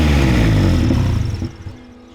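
Rough-running Honda Civic engine, a loud, close idle with uneven pulsing that falters and sputters down in the last second.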